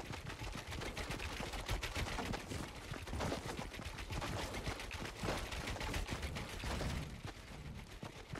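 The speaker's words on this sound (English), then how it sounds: "I hear gunshots." Gunfire in the Fortnite video game rattles as a continuous dense stream of rapid shots, fairly faint and steady throughout with no talk over it.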